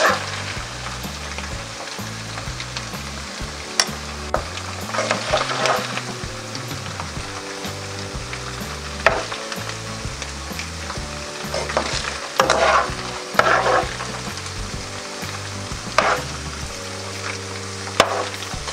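Beef slices sizzle in a hot pan while being stirred and browned until the blood cooks off, for Filipino beef steak: a constant crackling fry broken by irregular scraping and clacking stir strokes, close and fairly loud, with no talk.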